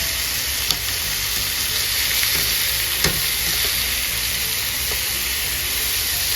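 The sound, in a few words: chicken breast frying in a pan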